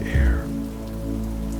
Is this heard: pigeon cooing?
no